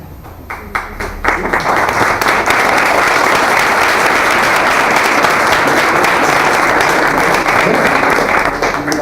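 Listeners at an informative talk on chaotic space weather break into applause, a few scattered claps quickly building into a loud, full, steady round that continues without pause.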